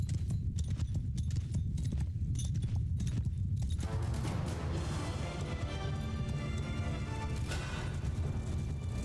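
Horses gallop during a battle in Mount & Blade II: Bannerlord, their hooves pounding in a rapid, steady clatter that thickens into a dense rumble as more riders join.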